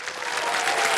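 Loud, dense applause from a game show studio audience on Kaun Banega Crorepati, a continuous wash of many hands clapping without a break.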